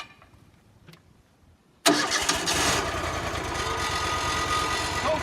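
A Wood-Mizer LT35 sawmill engine starts abruptly after a quiet moment, catching within a second and settling into a loud, steady running roar, close by.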